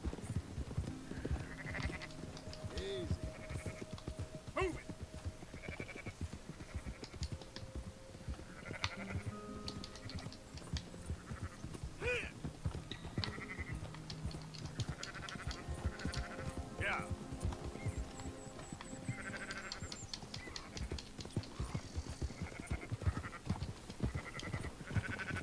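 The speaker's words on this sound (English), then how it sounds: "someone's gonna attack our sheep" Sheep bleat repeatedly over a busy Red Dead Redemption 2 game scene, the calls rising clearly above steady background noise while people talk throughout.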